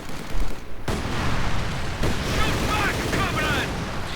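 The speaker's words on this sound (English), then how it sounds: "An incendiary artillery barrage." An incendiary artillery barrage in the Company of Heroes 2 strategy game, heard as a dense, continuous roar of fire and crackle punctuated by a couple of sharp impacts, loud and unbroken throughout.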